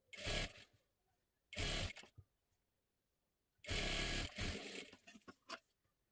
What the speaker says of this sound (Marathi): ह्याच्यावरती ठेवून एकदम कडेकडेला शिलाईमध्ये पकडताना व्यवस्थित पकडा